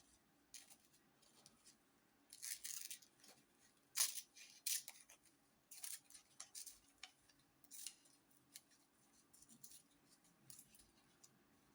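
Paper scissors snip around a printed word for a handmade almanac, a series of faint, quiet crisp cuts in irregular clusters, close by in an otherwise quiet room.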